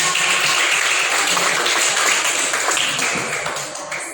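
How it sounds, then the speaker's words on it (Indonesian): Children clap together in a classroom, a dense, steady burst of many small hands lasting several seconds and tapering slightly at the end. "Tepuk tangan dulu untuk semua"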